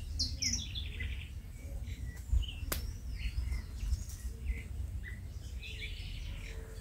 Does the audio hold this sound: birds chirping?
yes